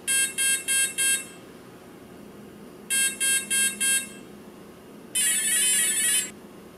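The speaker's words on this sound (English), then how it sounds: "Now we'll hear a series of four beeps, which is select the aircraft" An Align RCE BL80X or BL50X electronic speed controller sounds two sets of four quick setup beeps, then one longer warbling tone, loud and close over a faint background hiss.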